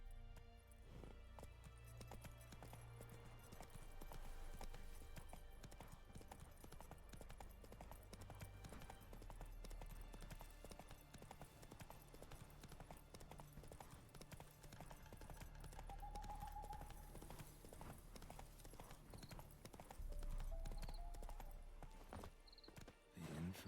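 Roach the horse galloping in The Witcher 3, a steady rhythmic clip-clop of hooves under a low music and ambient bed, with a short whinny near the end.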